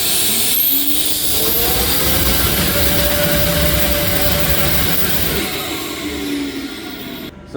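A Holset turbocharger spins on a balancing machine, a loud steady high-speed whine and roar with faint rising and falling tones, holding evenly throughout before cutting off at the end.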